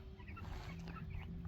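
Broiler chickens in a chicken tractor cluck softly and steadily close by, with one louder cluck near the end.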